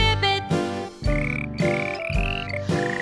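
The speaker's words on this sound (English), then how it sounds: "The frog goes ribbit." A frog's ribbit croaks repeat in rhythm within a children's sing-along, several clear croaking calls riding over bright backing music with no talking.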